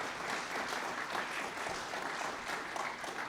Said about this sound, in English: give her an applause again